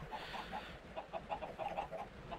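Chickens in a video game chicken farm cluck in quick, soft, repeated bursts, a small flock heard close but at low volume with no talk.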